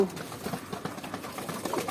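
Soft, low cooing of a pair of feeding doves on a rooftop repeats a few times nearby, quiet and gentle against a faint background hum.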